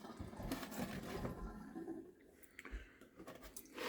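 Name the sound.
water running from a tap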